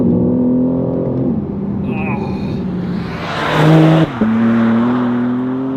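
A BMW M3 Competition G80 accelerates out of a corner in second gear, its engine note climbing and surging loudly from inside the cabin, with a brief swell of tire and wind noise.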